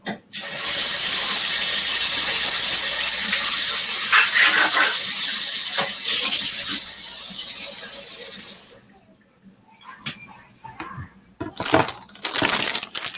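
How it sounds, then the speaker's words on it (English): Running tap water rinsing a knife and cutting board, a loud steady gush at a sink for about nine seconds, then the flow stops, followed by scattered knocks and clatter of handling. "Rinse my knife and cutting board off."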